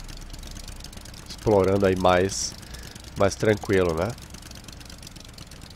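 A boat motor running in the survival video game Stranded Deep on Xbox One, a steady mechanical drone throughout, with someone speaking over it in two short phrases.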